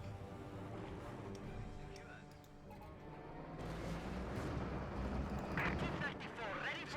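Pak 40 anti-tank gun and T-34 tank cannon fire in a Company of Heroes 2 match, dense booming battle noise with rumbling blasts and a louder burst of explosions toward the end, continuous and close.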